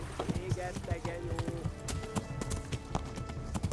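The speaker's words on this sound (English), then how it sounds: "Gotta be careful not to waste all the horse stamina." Horse hooves clip-clopping in the video game Kingdom Come Deliverance, a steady rhythmic beat of close hoof strikes at a brisk gait, with some tonal game sound underneath.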